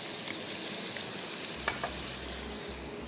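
Garlic and ginger paste frying with beef in a pan gives a faint, steady sizzle with a couple of brief stirring clicks, close and quiet, with no talking.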